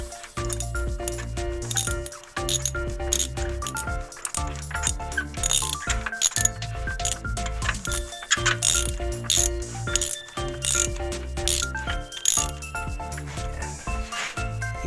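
A number 16 spark plug wrench ratcheting on a car's spark plug gives rapid, close metallic clicks in repeated bursts with short pauses, heard alone.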